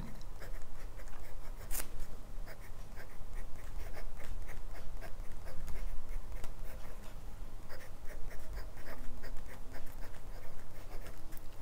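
A Kaweco Sport fountain pen with a medium steel nib scratches across paper. Soft, close strokes and taps repeat in a steady rhythm, quiet and alone.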